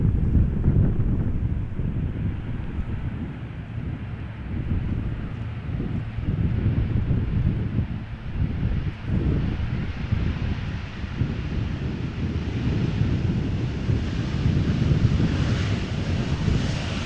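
Steady wind buffets the microphone at Amsterdam Schiphol Airport. A dull, continuous roar holds at an even level throughout, with a faint aircraft engine rumble mixed in underneath and no voices.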